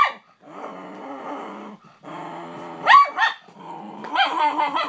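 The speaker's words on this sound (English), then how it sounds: "This dog is freaking crazy." A dog barks and growls in loud, close bursts, with sharper yaps near the middle and a busy run of growling and barking toward the end.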